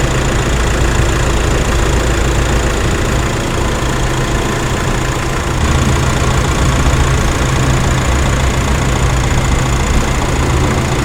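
Two Nissan NP300 Navara pickups idle together, a dense, loud and steady engine drone that holds unchanged throughout.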